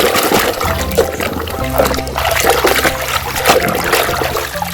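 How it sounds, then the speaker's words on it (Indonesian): Water splashes and trickles as a toy Thomas train is washed, a close, continuous gush with uneven surges and splatters, loud throughout and free of speech. "kita cuci bersih"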